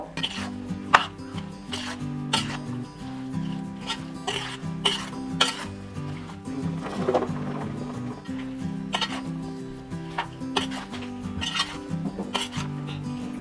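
Mango pieces for homemade kilichundan mango pickle are tipped into a pan and stirred off the heat, giving repeated sharp clanks of spoon on metal and scraping, shuffling sounds at close range.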